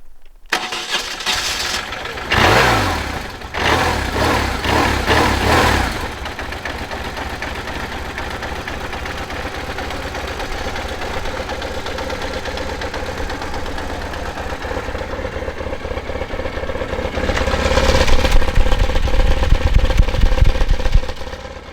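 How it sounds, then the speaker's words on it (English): A BMW R1150RT boxer motorcycle engine revs in sharp bursts, then settles into a steady, lumpy idle before revving up again near the end, loud and close. "Let's hear the sound of a boxer engine from a true BMW."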